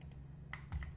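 A few sharp computer clicks, most likely a mouse clicking Publish in Adobe Animate on a desktop computer, sounding close and light over a faint low hum.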